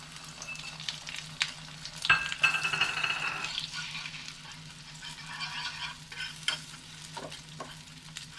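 Beaten, salted eggs scramble and fry in oil in a pan over low heat, giving a steady soft sizzle with scraping stir strokes and a few sharper clinks, close and with no talking.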